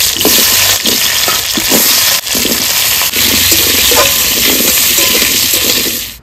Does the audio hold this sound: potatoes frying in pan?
yes